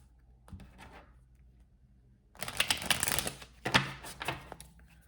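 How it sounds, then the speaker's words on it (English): Tarot cards are riffled and shuffled in two quick bursts of crisp flapping after a few quiet taps, close up and fairly soft. "Actually, let me shuffle this again."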